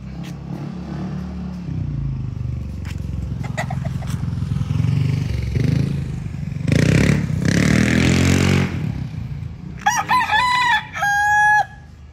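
A five-month-old McLean x Miner blue stag crows loudly and close, followed by further sharp crowing calls from nearby fowl near the end.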